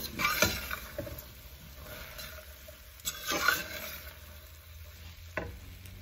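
Beans and tomato curry being stirred in a pan, a few distinct spoon scrapes and light clinks against the metal over a soft low sizzle, close and quiet, with no talking.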